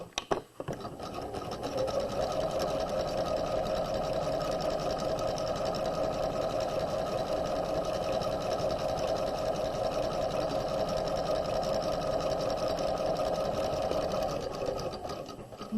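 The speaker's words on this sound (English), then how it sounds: "So again, 1/4 of an inch seam allowance," A sewing machine runs steadily and close by while back stitching a raglan sleeve seam at a quarter-inch seam allowance, one continuous whirring, rattling run of about twelve seconds with a short start and stop.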